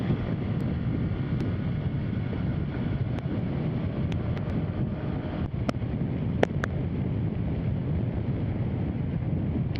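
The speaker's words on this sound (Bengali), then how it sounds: "বাতাসে প্রচুর চাপ আছে।" Strong wind roars constantly against the microphone in a dense low rumble while riding a motorbike, with occasional faint clicks over it.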